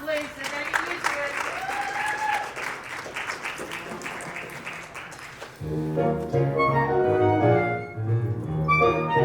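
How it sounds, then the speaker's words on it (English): A small group claps during a ballet rehearsal, a scattered patter of hands with people talking over it, then giving way to music and voices in the second half. "Applause, please."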